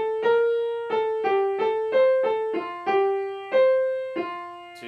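Piano playing the second right-hand line of A Classic Tale from a beginner method book: a slow, single-note melody of about ten struck notes in dotted rhythms, each ringing and decaying, close and clear with no voice.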